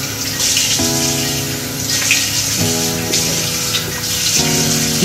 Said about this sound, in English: normally what I do is put water on here, and then I get my face washed